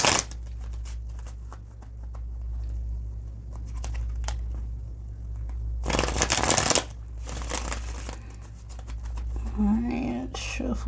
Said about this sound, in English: Alright, shuffle one more